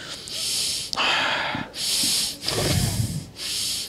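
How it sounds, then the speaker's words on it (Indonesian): Deep breathing shown during a meditation lesson: several slow, loud airy inhales and exhales alternate with short pauses, close to the microphone and heard alone. "Namanya adalah deep breathing. Itu adalah nafas mendalam."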